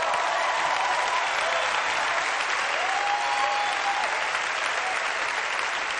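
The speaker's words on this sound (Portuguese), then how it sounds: "Você está aplaudindo?" Church congregation applauding steadily at a Portuguese-language evangelical service, a dense sustained clapping from a large crowd that fills the whole stretch with even loudness.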